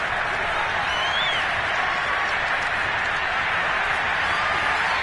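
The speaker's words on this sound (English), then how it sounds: "We're going to give out a little applause on that play." Crowd applause in a Seahawks football video game, a steady broad roar of clapping and cheering that holds at an even level throughout with no pauses.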